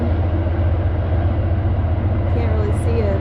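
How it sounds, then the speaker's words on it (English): A passenger train rumbles steadily past in New River Gorge National Park, a continuous low roar with a faint squeal near the end; the sound is loud and close, with no speech. "Can't really see it, but you can hear it. But that's actually a passenger train."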